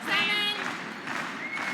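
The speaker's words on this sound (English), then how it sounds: "This crowd is extremely good at clapping and stomping their feet at the same time." A curling crowd at the KIOTI National final, Hasselborg vs. Homan, claps and stomps in a dense, steady wash of applause that fills the arena, with a brief raised voice cutting through near the start.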